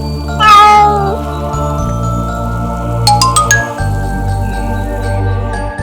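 A cartoon kitten in a Tamil children's animated story gives one sad, high, wavering meow, followed by light tinkling chimes over a steady musical background.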